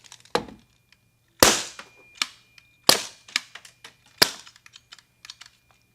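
A Polarstar Kythera airsoft engine dry fires after its nozzle stops, giving sharp mechanical clacks: four loud shots spaced about a second and a half apart, each followed by a scatter of smaller ticks and clicks, with no talking.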